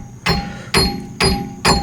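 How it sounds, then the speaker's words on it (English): A hammer taps the axle of a Subaru Forester during a wheel bearing replacement, four sharp metallic strikes in quick, slightly uneven succession, loud and close, each ringing briefly. "The one thing I need to do is take this hammer"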